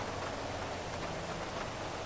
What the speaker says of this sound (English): I think this is the first rain I've had it out in,